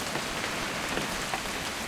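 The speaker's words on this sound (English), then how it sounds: "It's gonna rain the whole weekend, isn't it?" Steady rain falling during a hunting trip in the video game What Remains of Edith Finch, a dense, even patter of drops on surfaces with no voices.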